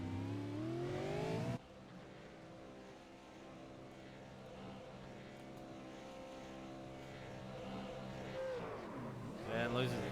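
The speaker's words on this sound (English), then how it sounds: "Going to go do some burnouts." V8 race car in the iRacing sim doing burnouts at Lime Rock: a steady, loud engine drone with layered revving harmonics, briefly cut after the opening, then swelling with a sharp rev sweep near the end.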